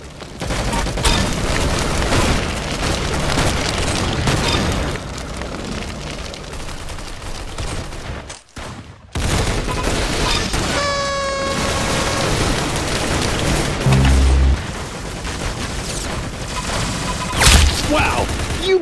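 Gunfire and explosions in the Roblox shooter Arsenal: rapid bursts of shots, a few heavy booms and a brief cut in the sound, all loud and close with game music and a voice talking over it.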